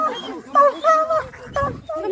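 An injured dog, apparently hit by a car, whimpers close by in a few short, high, wavering whines separated by brief pauses.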